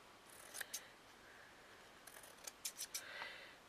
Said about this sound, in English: But I'm going to just cut the edges, trim it off so it's a bit neat.